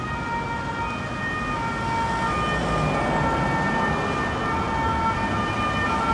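Ambulance siren sounding at a cruise port in Zeebrugge, steady and continuous at moderate distance over ambient outdoor noise and wind.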